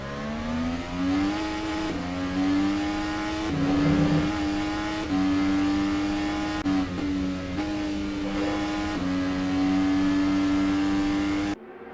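IndyCar race cars at full throttle on the Mid-Ohio circuit during a 2023 race, a loud sustained engine howl with pitch shifts through gear changes and cars passing close by.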